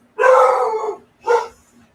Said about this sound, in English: Is your dog barking at Howard?